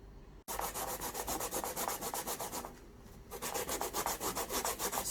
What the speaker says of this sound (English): grating the sweet potato